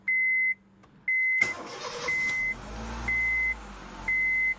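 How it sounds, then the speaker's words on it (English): A 2006 Honda Jazz 1.4 automatic starts up: a warning chime beeps at a steady pace, then the engine cranks and catches into a low idle while the chime keeps repeating. "get this car started"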